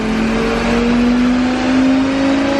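A twin-turbo Lamborghini engine on a dyno holds around 3,500 RPM, a loud, steady close drone with its pitch creeping slowly upward as the revs climb, no voices.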